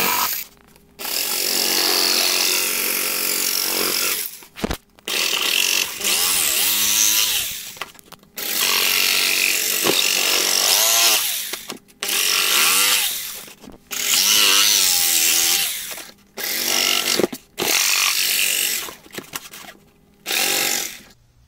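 A saber saw cuts out an armor chest plate in loud, close bursts of buzzing, rasping sawing, each a few seconds long, with brief pauses between the cuts.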